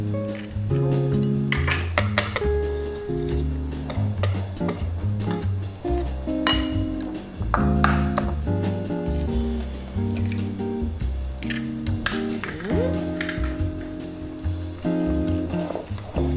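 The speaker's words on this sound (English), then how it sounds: "We'll mix these guys up, and one at a time, add a couple of eggs" Biscotti ingredients being mixed in a bowl for rosemary orange cornmeal biscotti, with eggs added one at a time: steady clinks of utensil against bowl and soft squishy stirring, close and fairly quiet, with no talking.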